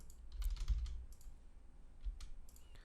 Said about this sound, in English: let's type something here